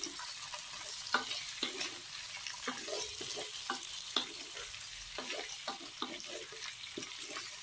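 Shrimp cooking in a frying pan, with a steady soft sizzle broken by repeated scraping stir strokes at an irregular rhythm, fairly quiet and close, with no voices.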